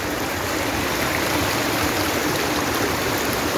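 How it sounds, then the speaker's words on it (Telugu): Clear stream water flowing nearby, a steady, loud, continuous rushing wash with no breaks and no voices. "మీరు ఈ వాటర్ అయితే ఫ్లో అవ్వడం అయితే చూస్తున్నారు కదా"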